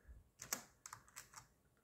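Quiet typing on a computer keyboard while a short program is entered: a few light, irregular key clicks and taps close by, with no talk.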